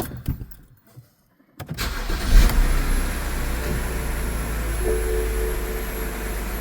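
A 2009 BMW 328 xDrive engine cranks after a brief silence, catches, and settles into a steady, loud idle that runs to the end with no talking.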